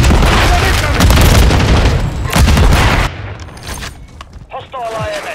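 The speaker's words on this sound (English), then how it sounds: "Grenade! Flash incoming! Grenade incoming!" Grenade blasts and dense gunfire from a Call of Duty MWIII multiplayer match fill the first three seconds with heavy, continuous booms, then the din drops away to sparse, quieter shots and in-game voice callouts.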